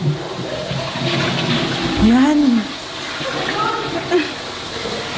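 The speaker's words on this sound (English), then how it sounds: "Now guys, what you need to do, you just have to flush it." A toilet flushing in a public restroom, a steady loud rush of water running for several seconds with a rising gurgle midway, heard under a person's brief remarks.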